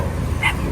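A single short, sharp yip comes from one of a group of several dogs, close by and brief against a steady background hum.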